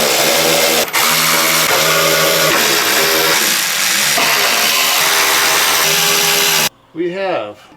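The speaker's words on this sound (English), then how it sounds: "So we got a T15 Torx bit now, 3/8 1/4-inch driver." A power driver fitted with a T15 Torx bit whirs loudly and continuously while removing small bolts from a Chevy Tahoe, running close and steady for several seconds before cutting off, followed by a brief faint mechanical noise.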